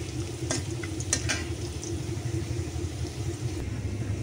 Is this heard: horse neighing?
no